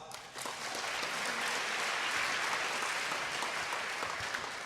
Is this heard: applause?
yes